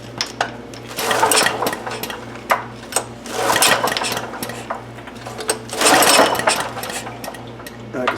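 A Honda EB5000 portable generator with a no-start fault is cranked: loud, rhythmic mechanical chugging comes in several repeated bursts with short pauses between, close by, over a faint steady low hum.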